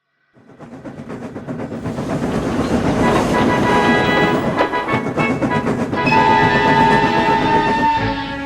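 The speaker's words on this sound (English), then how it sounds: "Train arrived one day." A train rumbles steadily along with rhythmic clattering of wheels on rails, building in loudness and staying close throughout.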